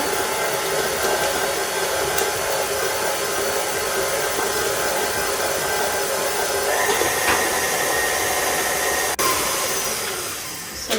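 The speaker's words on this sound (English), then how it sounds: "And I'm going to get my KitchenAid. I like to start slow." A KitchenAid stand mixer runs at a slow speed while mixing Viennese whirl cookie dough, a steady close motor whir with a few faint clicks and knocks.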